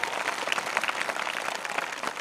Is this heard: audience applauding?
yes